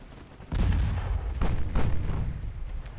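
Naval artillery fire from warships in the video game Ultimate Admiral Dreadnoughts: a heavy, deep boom erupts and rolls on, followed by further low rumbling blasts, loud and dense with no voices.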